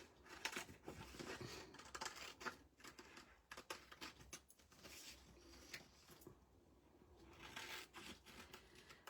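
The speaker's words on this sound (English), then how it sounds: "use your scissors and cut around it" Scissors cutting around an abstract butterfly sticker stamp for papercraft, with a quick run of crisp, irregular snips and clicks close up that pause briefly before resuming.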